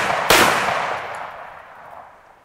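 A single sharp .223 rifle shot fired at a helmet cracks loudly and close, followed by a long rolling echo that fades over about two seconds.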